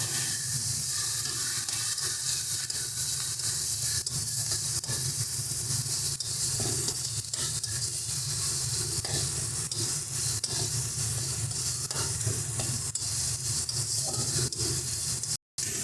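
Chopped tomatoes tossed into a spice masala frying for a rohu fish curry, with a continuous dense sizzle and hiss layered over a low rumble, ending abruptly.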